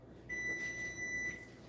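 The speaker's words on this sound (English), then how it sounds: "Turn the timer off" A kitchen timer gives a steady high electronic beep for over a second while baking brownies. Low room noise sits underneath it.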